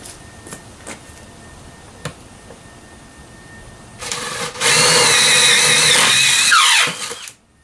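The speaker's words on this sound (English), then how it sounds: "you want to drill a hole that's big enough for your router bit to be able to fit through" A power drill bores a hole in wood big enough for a router bit, whirring up loudly after a few quiet taps and running steadily for about three seconds before winding down.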